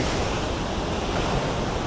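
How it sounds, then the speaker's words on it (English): Ocean surf crashing against a rock pillar on a coastline gives a dense, continuous roar of churning water and wash, loud and close, with wind noise and no voices. "the waves are just rolling back into the ocean after they crash"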